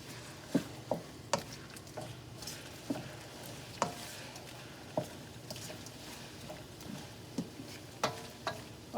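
Jamaican spicy shrimp seasoned with chili powder sizzling in a pan, a soft steady fry with scattered sharp taps and clinks of stirring, close up and without talk.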